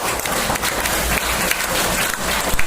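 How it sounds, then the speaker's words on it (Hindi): Loud, dense applause from a church congregation at a prayer meeting, with steady rapid clapping filling the whole short stretch. "जोरदार तालियां बजाओ।"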